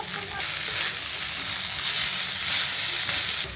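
Rice flour batter frying in a pan, a steady close sizzle and hiss with faint stirring scrapes, no voices present.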